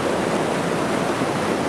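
Fast-flowing flood water in Muskoka, a dense, steady rushing roar like a torrent over rocks, close and loud without pause.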